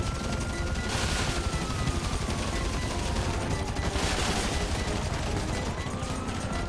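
Rapid automatic gunfire in the video game GTA 5 during a mission, a dense continuous rattle of shots with louder bursts, mixed with faint siren-like tones in the background.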